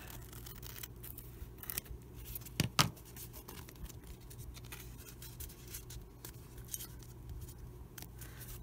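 Scissors trimming paper for a tiny handmade book, with soft close snips and rustles, a louder pair of cuts near three seconds, and no voices.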